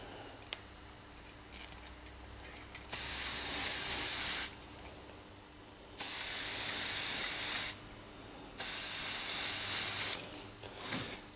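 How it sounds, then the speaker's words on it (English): An aerosol can sprays a model tree in three long hissing bursts of a second or two each, separated by quiet pauses, with a brief final puff. "So what I do is I spray my tree"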